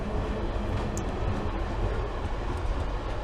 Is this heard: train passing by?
yes